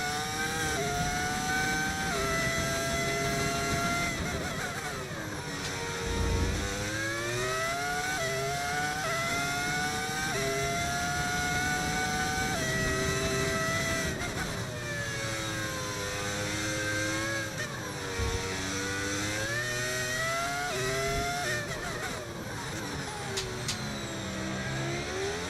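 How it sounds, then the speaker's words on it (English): V10 Formula 1 engine in the racing game F1 25, loud and continuous, wailing through rising and falling revs as the car accelerates and downshifts through corners for the full length, with no talk. "Engine sounds different? It's because it is. That's because it is. It's the V10 engine."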